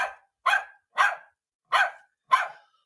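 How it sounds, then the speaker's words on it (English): A dog barks five times alone in quick, evenly spaced sharp barks, close and clear with silence between. "Luna would not bark on cue. So that's why I don't have a clip of Luna."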